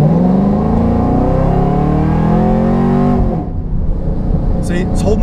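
A car engine with an automatic transmission holds its gear at high revs, a loud continuous drone whose pitch slowly climbs, then the engine note drops away and it begins revving down.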